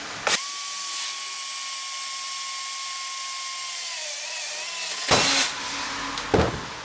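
A power drill bores a hole for a universal bench vise mount, giving a steady high-pitched whine that sags in pitch as it bites into the material, followed by short bursts of clunking handling noise.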